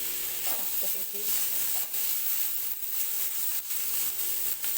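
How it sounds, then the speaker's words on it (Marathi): Masala roasting in a pan for a paneer gravy gives a steady, close sizzling hiss that runs throughout, with faint stirring scrapes and no talk. "आता भाजून घेते जितका आपण मसाला जास्त भाजत तिथे ग्रेव्ही चांगली होती पनीरची"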